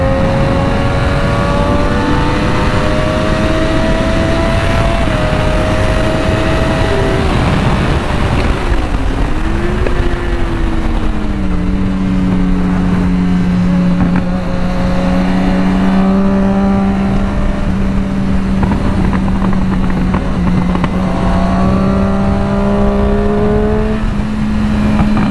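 Triumph Daytona 675 motorcycle engine roars continuously while riding, loud and close, its pitch rising and falling with throttle changes and gear shifts over steady wind rush.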